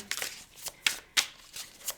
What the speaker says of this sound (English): So let's shuffle the deck for Cancer.